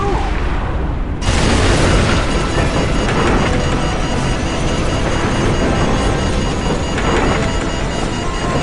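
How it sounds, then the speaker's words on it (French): A huge explosion in the game Modern Warfare blasts in abruptly and loud, then rolls into a long, dense rumble of debris and roaring noise that stays heavy throughout. "Cela semble être une explosion gigantesque."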